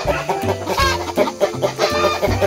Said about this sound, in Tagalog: May mga manok pala din sila dito. Ayan mga manok nila mga kawingski.